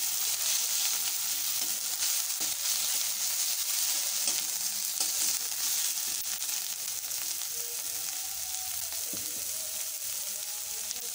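Ginger paste frying in a pan for a raw banana curry, giving a dense, loud, unbroken sizzle that holds steady throughout with only faint stirring clinks beneath it.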